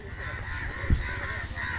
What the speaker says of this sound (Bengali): চারিদিকে দেখতে পাচ্ছ পাখির শব্দ শোনা যাচ্ছে